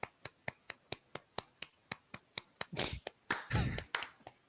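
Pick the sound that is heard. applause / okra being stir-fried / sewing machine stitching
applause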